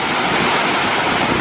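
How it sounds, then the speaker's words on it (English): Strong waves breaking on a lake shore, a loud continuous rush of surf mixed with wind buffeting, with no voices. "Very strong waves today in the lake"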